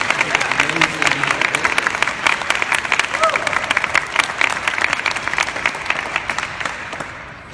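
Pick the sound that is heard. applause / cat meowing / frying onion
applause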